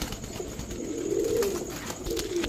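Pigeons coo at a pigeon seller's stock of teddy, racer and giribaz birds, low, soft throaty coos rising and swelling over faint background noise with no talk.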